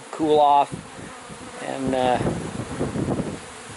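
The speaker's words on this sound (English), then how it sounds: "bee vac is also completely full of bees" A swarm of honeybees from a cut-out hive removal fans and buzzes steadily inside an open-topped bee vacuum, close by, while someone speaks over the hum.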